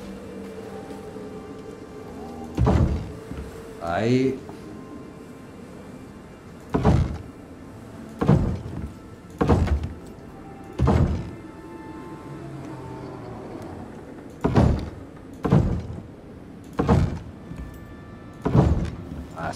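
A door is placed in the survival video game Icarus, with a series of heavy, evenly spaced thuds and knocks sounding close and loud; a voice briefly speaks once near the start.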